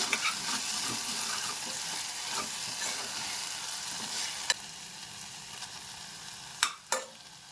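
Soft-cooked tomato for egg curry being stirred in a hot pan, a steady close sizzle with light scraping strokes and a few sharp clinks near the end.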